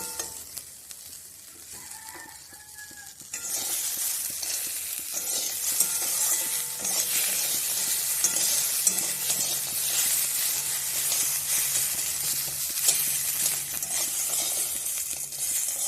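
Ingredients for bori bhujia fry and are stirred in a pan, a steady bright sizzle rising from a quiet start after about three seconds and hissing continuously, close and fairly loud, with no talking.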